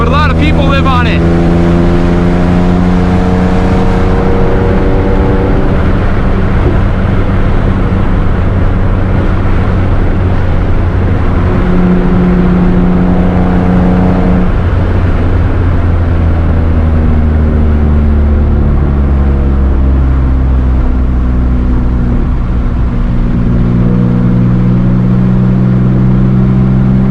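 A loud Nissan 350z engine drones hard from inside the cabin while driven fast along autumn backroads, rising and falling as it shifts through the gears with a constant throaty roar.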